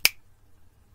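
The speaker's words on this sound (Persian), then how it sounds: "این صدای بشکن تو ذهنتون باشه" A single crisp finger snap, sharp and close, followed by near silence.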